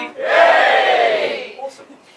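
Wedding guests cheer together, one loud burst of crowd shouting that swells quickly, holds for about a second and then trails off into scattered voices.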